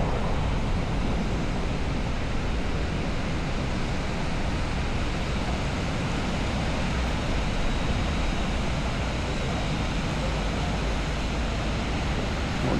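Ocean waves and wind at the shore at Punta Gorda, a constant loud wash of surf and blowing wind noise across the microphone, unbroken for the whole stretch with no voices.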